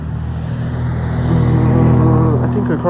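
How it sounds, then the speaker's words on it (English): A loud white SUV drives past outdoors, its steady low engine rumble building and holding at a near, fairly loud level for a few seconds. "It's a loud white SUV."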